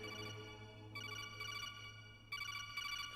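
A phone rings in the stealth video game Metal Gear Solid, a repeating electronic trill in several bursts with short gaps, steady and fairly quiet over a low background hum.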